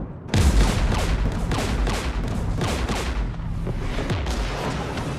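A dense, booming barrage of gunfire and explosions rolls on continuously in the sci-fi shooter Mass Effect 3, loud and sustained with no one talking.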